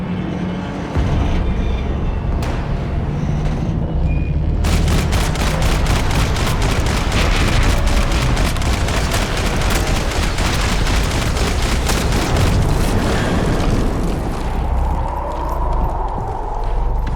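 Dense rapid gunfire in a Max Payne 3 shootout, sustained automatic bursts crackling over a low rumble for most of the passage, loud and continuous after a brief quieter opening.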